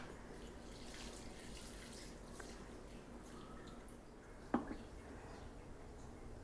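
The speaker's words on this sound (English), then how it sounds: "Oh, let's give the dill some water." Watering dill plants in a garden: a soft, steady splashing and trickling of water runs throughout outdoors, with one brief knock midway.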